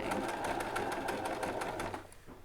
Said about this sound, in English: So now I'm just going to go ahead and sew all the way around.